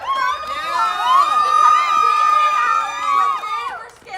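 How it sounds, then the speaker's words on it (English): A crowd at an anti-ICE demonstration in Jersey City cheers and whoops, with high shouts and screams rising over a steady roar of voices that swells and then fades. "They deserve a huge round of applause"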